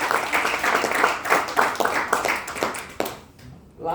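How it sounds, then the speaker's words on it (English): Applause at a Toastmasters meeting, a room of people clapping in a brisk, fairly close burst that tapers off near the end. "Let's give them a big round of applause."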